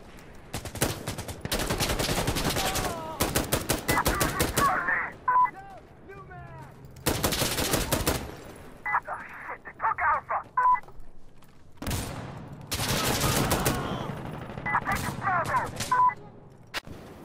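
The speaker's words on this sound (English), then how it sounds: "what's possible with the hip-fire with the M16" M16 hip-fire in Insurgency Sandstorm: long, loud automatic bursts of rapid shots separated by quiet gaps, with bright mechanical clicks and chimes between bursts.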